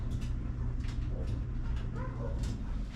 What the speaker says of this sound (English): Neighbor's dogs got out and they're chasing them around.